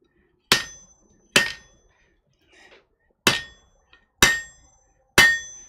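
A blacksmith's hammer strikes a metal bar in a smithy to straighten a twist: five sharp, ringing blows at uneven intervals, close and loud, each decaying quickly, with no talk.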